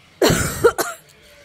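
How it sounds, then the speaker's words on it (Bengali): A single close, harsh cough bursts out, followed quickly by a shorter second hack, then quiet. "প্রচন্ড কাশি হয়েছে।"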